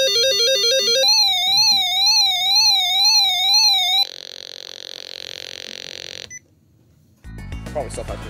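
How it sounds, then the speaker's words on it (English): Loud electronic alert tones from a Whistler WS1010 weather radio warble and pulse in a rising-falling pattern, switch to a steady harsh tone, then stop before some clattering noise. "So yeah, there's the siren."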